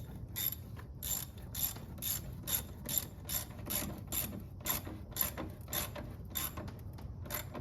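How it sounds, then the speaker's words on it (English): Ratchet tightening hose clamps on the radiator of a 2013 Chevy Tahoe, a close run of quick metallic clicks in steady bursts, about a dozen evenly spaced pulls with no talking. "so we can tighten down these clamps"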